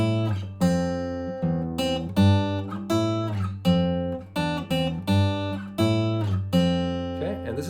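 A guitar plays a variation of the riff from a song, about a dozen plucked notes in a repeating rhythmic figure with a short slide near the end, close and solo without speech.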